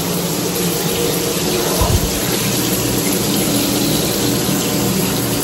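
Cold shower water running steadily, a constant broadband hiss and spatter with a brief heavier splash near the middle, close and continuous.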